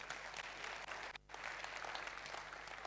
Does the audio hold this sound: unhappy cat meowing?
no